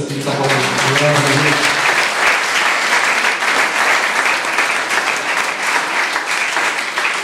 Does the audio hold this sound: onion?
no